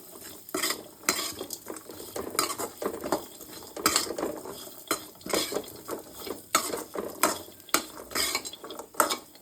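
Moong dal being dry-roasted in a pan and stirred steadily, giving repeated scraping and rustling strokes of the spoon against the metal, close and clear with no talking.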